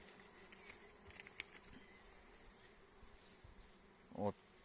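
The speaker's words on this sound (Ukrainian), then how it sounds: "Ну Дуже великий цей рій." A very large honeybee swarm hums faintly at an apiary, a low distant drone with a brief louder buzz as a bee passes close near the end.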